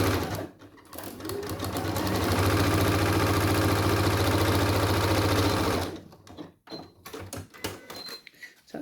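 Sewing machine stitching a skirt pocket seam with a 1 cm allowance, running in one loud, steady mechanical whir for several seconds, then stopping, followed by soft handling of fabric and small clicks.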